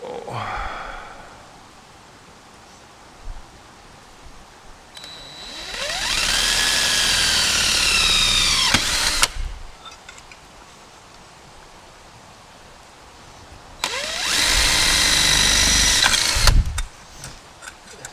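A power drill with a dulling bit whines loudly in two long bursts of several seconds each, with quieter pauses between, drilling on the tunnel of a 1967 Chevelle.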